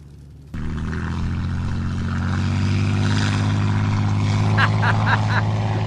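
Nimrod aircraft departing at an airshow, a heavy steady engine roar that swells in abruptly and holds loud and continuous throughout, with faint voices underneath.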